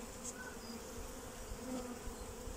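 Honey bees drone softly and continuously inside a nuc box being transferred to a full brood box, a faint, even hum throughout.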